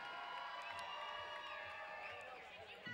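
A crowd at a live event roars and cheers in a steady, sustained wash of many voices, with shouts and whoops rising from the mass at a moderate distance.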